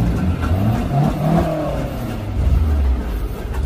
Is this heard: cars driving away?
yes